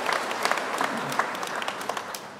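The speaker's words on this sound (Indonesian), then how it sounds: "Tepuk tangan untuk Romo Arvin." Applause from a church congregation during a first Mass celebration at Santa Anna church, a dense steady clapping that fills the whole moment at moderate loudness with no voices over it.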